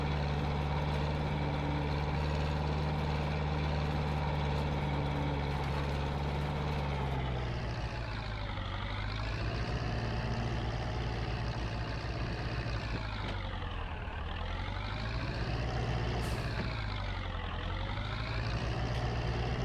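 A tractor engine rumbles steadily at idle nearby, its low drone holding constant and then swelling and dipping in slow waves, with no talk over it.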